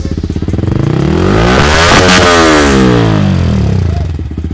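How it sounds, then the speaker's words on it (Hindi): A Yamaha R15 V3 sport motorcycle fitted with crash guard and visor starts and revs up close, its engine note climbing sharply to a loud peak and then falling back to a throbbing idle. "इसे पुश करेंगे तो ये हो जाएगी आपकी बाइक स्टार्ट।"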